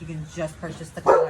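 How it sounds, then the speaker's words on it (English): Dogs barking on an outdoor patio, short yips and barks under and between a woman's ongoing speech, one louder bark burst near the end. "You got to excuse my dogs, they're going to bark because we're outside on the patio again."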